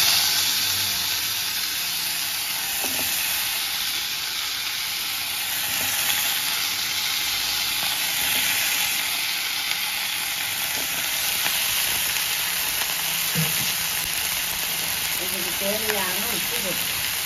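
Curry leaves crackle and sizzle in hot oil after mustard seeds and urad dal, a dense continuous frying hiss close by with a few light stirring clinks and brief voices in the background.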